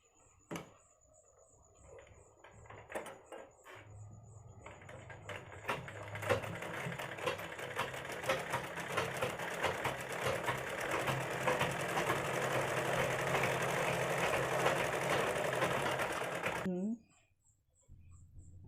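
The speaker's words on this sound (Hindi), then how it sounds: "अब हम कपड़े को उल्टा करेंगे और फिटिंग वाली सिलाई लगाएंगे" Sewing machine stitching the fitting seam of a long kurti, a steady rapid mechanical whir that starts after a few clicks and runs continuously for about twelve seconds before stopping abruptly.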